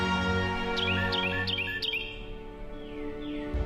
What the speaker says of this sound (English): There's a brown thatcher just there!